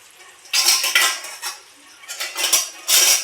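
A spoon scrapes and stirs leftover malai residue in a metal pan after the ghee has been strained off, giving bursts of loud metallic scraping with short pauses between strokes.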